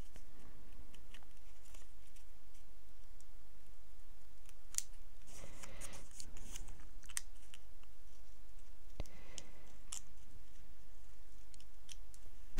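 Scissors cut card stock along a curve in a card-making craft session, giving a steady run of soft snipping and clicking, with a few louder crisp cuts, close and alone.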